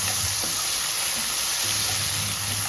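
Sliced onions, fried until reddish, sizzle in a pan with masala as chopped tomatoes go in, a steady close-up hiss with soft stirring and no voices.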